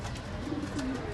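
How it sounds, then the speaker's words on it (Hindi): Pigeons coo softly and continuously, a low throaty murmur rising twice, heard over a steady background. "साइड में भी कबूतर उड़ते हैं, वो मसला नहीं है।"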